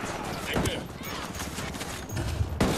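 Gunfire in the Ghost Recon Wildlands video game: dense, continuous in-game shooting and sharp bursts crackle throughout, with heavier cracks near the start and end, set under a busy noisy mix.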